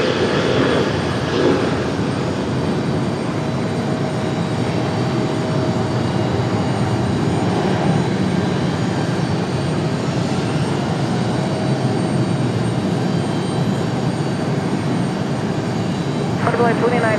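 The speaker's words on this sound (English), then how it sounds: "we've got another departure coming right now. Frontier Airlines" A Frontier Airlines jet departs Raleigh Durham International with an early rotation, a broad, steady engine roar filling the background while people talk over it.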